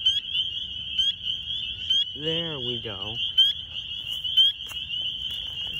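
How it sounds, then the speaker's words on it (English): Chorus frogs call at night in New Jersey in March, a dense continuous high-pitched trill filling the background, with a brief nearer rising call and a short spoken remark over it. "I love this time of year when the chorus frogs are out"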